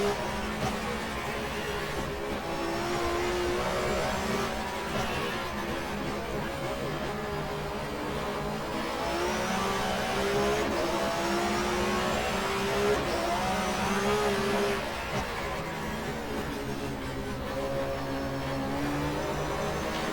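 In the GTR2 racing game, a 1994 German Touring Car Cup race car engine drones at Zandvoort, revving up and down through gear changes at a steady moderate level while someone talks over it.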